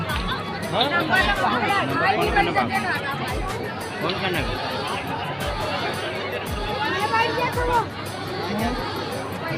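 A large crowd chatters at a mass wedding ceremony in Kandul village, a dense babble of many overlapping voices, fairly loud and steady throughout, with occasional thumps and nearby talk.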